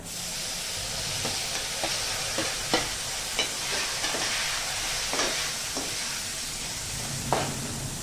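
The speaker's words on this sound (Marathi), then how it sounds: "हा टोमॅटो याच्यामध्ये छान मऊ होईपर्यंत शिजवून घ्यायचा" Tomato with turmeric cooks in a pan for a potato curry, sizzling steadily nearby while a spoon stirs and taps the pan every second or so, with no talking.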